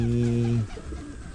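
Homing pigeons at a backyard loft give a short, low throaty coo, fairly close, that fades after a moment into quiet outdoor background.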